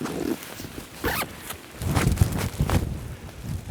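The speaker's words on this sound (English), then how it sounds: "so always, zip your bag up" A camera bag zipped shut in snowy, harsh outdoor conditions, several quick rasping zipper pulls up close, with some crunching movement in between.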